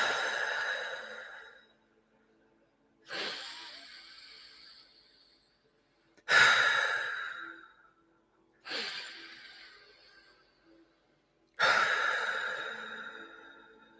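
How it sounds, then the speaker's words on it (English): Deep, slow breaths in and out during a guided breathing exercise: five long airy exhales, each starting strongly and tapering off, close and clear, separated by quiet pauses. "Breathe out and push it."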